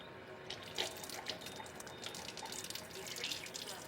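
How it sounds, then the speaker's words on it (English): Water runs steadily from a tap into an Enagic Kangen SD501 water machine, a close, continuous splashing trickle with small drips and clinks, and faint speech sits underneath. "Now I'm going to run the flow of the water, but I'm not going to put it in here yet until it starts pulling that saline solution in"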